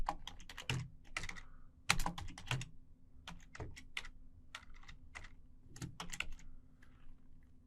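Computer keyboard typing during a network scanning session in a command console, with bursts of quick keystrokes separated by short pauses, close and fairly clear over a steady low hum.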